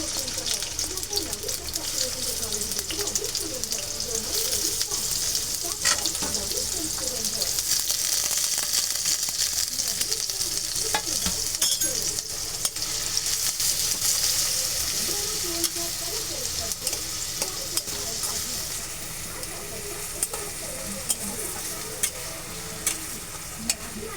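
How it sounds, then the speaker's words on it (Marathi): Finely chopped onion frying in a generous amount of hot oil for kaleji masala, giving a steady, dense sizzle throughout with occasional clinks of stirring, close and continuous. "ते थोडं गरम झाल्यावर मी त्यात बारीक चिरून घेतलेला कांदा टाकते."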